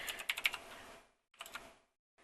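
Computer keyboard keys tapped while writing HTML code, a quick cluster of crisp close keystrokes, a brief pause, then another short burst of typing, with no talking.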